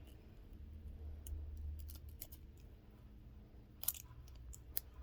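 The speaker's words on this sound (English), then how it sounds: "all I'm doing is cutting into the threading for the seam of the clip" Scissors snip through the thread stitching along the seam of a wig clip, with a few faint, sparse cuts close up in a quiet room.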